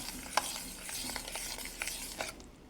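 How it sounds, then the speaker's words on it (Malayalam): A spoon stirs mango puree into cooled custard in a pan. Soft, irregular scraping strokes and faint clinks sound close by, under a quiet, continuous hiss. "നന്നായിട്ടൊന്ന് ഇളക്കി യോജിപ്പിക്കാം."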